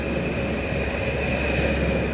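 Sprinter train at a station near Ravenstein, a steady close rumble with a high whine running throughout, no voices.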